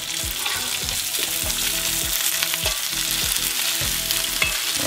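Golden-brown garlic and rice fry together in a pan, a dense constant sizzle with a rhythmic stir or scrape roughly every half second, close up and with no voices.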